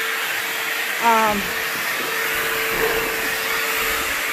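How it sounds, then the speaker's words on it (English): A vacuum cleaner runs steadily over a floor during house cleaning, a loud, continuous close whine throughout, with a brief voice-like tone near the start. "right now he's vacuuming the floor"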